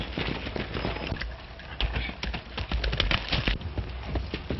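Many hooves pound the ground in a rapid, uneven clatter, fairly loud and close, as several horses gallop away together in a 1933 western film.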